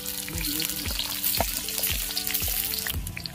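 Finely chopped onion sizzles on a high flame in a pan for village-style Egg 65, with a steady loud frying hiss and a few stirring scrapes and clinks, no voices.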